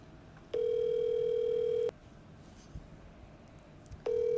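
A telephone rings on the line as a steady electronic tone: one long beep, a pause of about two seconds, then the next beep starting, clear and alone.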